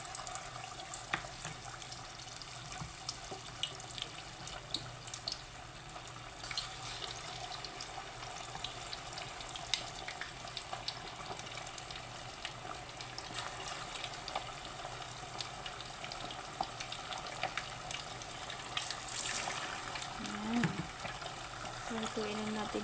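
Chicken pieces fry in hot oil with a continuous close crackling sizzle that runs throughout, steady in level, while a voice talks intermittently over it.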